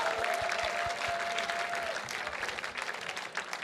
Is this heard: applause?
yes